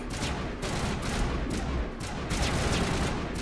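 Rapid gunfire from the video game Mass Effect 1 Definitive Edition rattles in a steady, continuous burst, loud and dense throughout with no talk over it.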